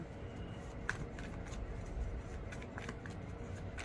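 Oracle cards are shuffled for a reading, a continuous soft riffling and papery flutter heard up close with small crisp snaps scattered through it.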